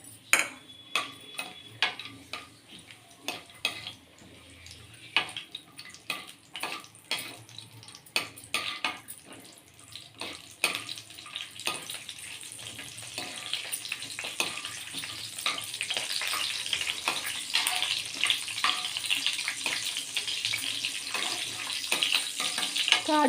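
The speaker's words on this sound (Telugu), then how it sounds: "కాజు వేసి ఫస్ట్ ఫ్రై చేసుకోవాలి" Cashews frying in a pan for carrot halwa, with steady sizzling that grows louder and denser over time, broken by frequent clinks and scrapes of a spoon stirring against the metal.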